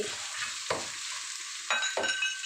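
Minced pork stir-fried with garlic and holy basil in a pan: a soft, steady sizzle broken by a few sharp scraping strokes of the spatula, close and fairly quiet.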